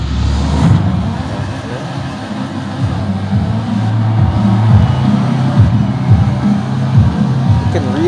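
A racing video game's car engines drone continuously and fairly loudly while played on a big-screen projector, with a steady low rumble and shifting pitch throughout.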